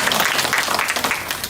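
Congregation applause at a church end-time conference worship service, dense, loud clapping from a crowd of people with a rapid, uneven rhythm.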